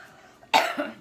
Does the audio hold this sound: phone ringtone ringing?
no